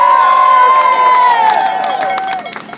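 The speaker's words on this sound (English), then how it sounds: "Please give him a round of applause" A crowd at a food sovereignty rally cheers and shouts loudly, with a high sustained whoop or whistle drifting downward and scattered claps breaking through, fading slightly toward the end.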